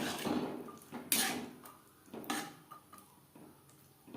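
Boiled peas, about 200 grams with a little water, stirred in a pan for ghugni, giving soft scraping and clinking of a utensil against the pan in a few separate bursts, fairly close and moderately quiet.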